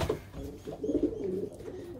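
A recessive red pigeon coos close by, a low, throaty, rolling call repeated steadily through the moment with no other voices.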